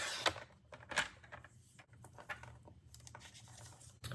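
A paper trimmer slices a scenery card panel, giving a few soft, brief scraping and tearing strokes with quiet gaps between them, close and faint, with no talk.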